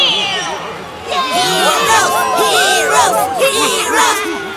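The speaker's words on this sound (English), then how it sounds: "Heroes cheer their team." Cartoon crowd of heroes in cramped stadium stands cheering their sports team, a busy babble of many voices with excited calls rising steadily and continuing throughout.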